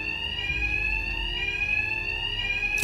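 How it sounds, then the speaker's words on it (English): An alarm in Batman: Arkham Knight sounds as a continuous, piercing electronic tone with a high ringing pitch, steady and loud throughout with low rumble beneath. "Their attacks will be covered by the noise of the alarm."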